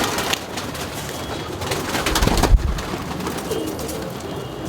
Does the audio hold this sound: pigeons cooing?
yes